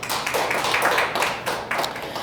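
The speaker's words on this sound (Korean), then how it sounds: "하나님께 영광의 박수를." A congregation in a church applauds, a dense, steady burst of clapping from many hands that swells and stays loud throughout.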